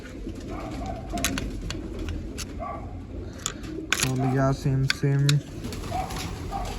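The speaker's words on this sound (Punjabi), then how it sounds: "ਓਏ ਆ ਗਏ ਚੁਗਣ ਕਬੂਤਰ" Pigeons coo a few times, low and fairly close, amid outdoor background noise, with people talking briefly.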